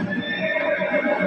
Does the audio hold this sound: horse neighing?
yes